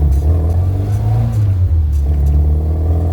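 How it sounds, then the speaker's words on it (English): A restored classic Mini, daily driven and fitted with oversized tyres, revs its engine while driving, giving a loud, close, continuous rumbling drone that rises and falls slightly in pitch without speech. "But it's so nippy that the engine picks up so fast."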